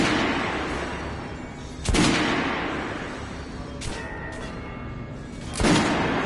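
Gunfire at a firing range in the video game Metro Last Light, with a few loud, sharp shots spaced several seconds apart, each booming and then decaying into a long echoing tail over a dull background rumble.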